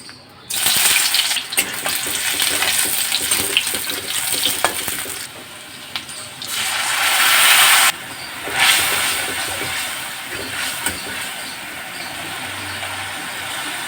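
Onions and spices frying in hot oil in a wok for an egg amla korma, a steady loud sizzle with stirring and scraping throughout, briefly softer in the middle, with faint background voice.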